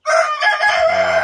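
A Brahma chicken crows loudly and close by inside a coop, one sustained cock-a-doodle-doo lasting just over a second, with a throaty clucking tail near the end.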